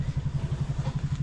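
Small engine running a watering pump, a close, rapid and even putter of regular pulses thumping at a steady idle rhythm throughout.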